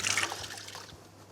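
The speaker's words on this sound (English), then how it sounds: "Let me just wash my hands." Tap water runs and splashes over hands being washed in a kitchen, a brief close hiss and trickle that fades out quickly.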